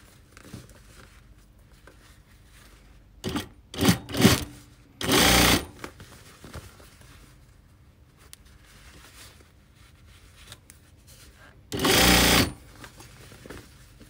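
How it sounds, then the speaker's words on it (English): A heavy Singer 4411 industrial sewing machine stitches a jean hem on a denim offcut, with short loud bursts of running separated by pauses, two longer runs standing out clearly near the microphone. "so I'm going to sew the other side of this offcut"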